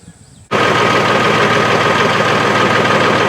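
Tractor engine starting up loud and steady after a half-second of quiet, then running at a constant idle with a continuous broadband rumble close by.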